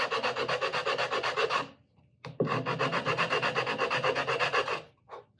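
A rasp files a wooden steel-string guitar neck in rapid rhythmic rubbing strokes, two long bursts split by a brief pause, close and clear with no talking.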